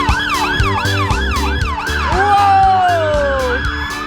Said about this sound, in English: Those sirens and the sound of fire engines on their way!